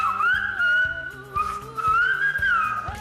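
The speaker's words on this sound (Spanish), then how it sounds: "¿Os comunicáis por silbo vosotros ahora cuando salís de aquí?" Aragonese whistled language, long sliding melodic whistles rising and falling in pitch, close and clear over a steady low rhythmic rumble in the background.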